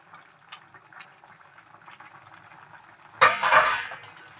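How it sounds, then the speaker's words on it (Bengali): Neem jhol broth with fried bori bubbles softly in a pot, a faint simmer that ends in a sudden louder burst of clattering and sizzling. "আবারও ঢাকা দিয়ে কিছুক্ষণ ঝোলটা ফুটতে দেব"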